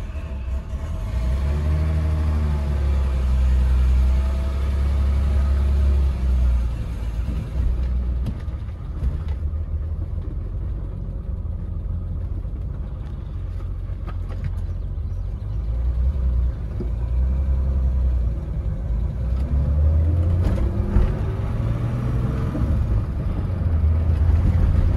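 A BMW E30 325is engine idling steadily shortly after a cold start, a loud continuous low rumble that stays even for the whole stretch with no talking.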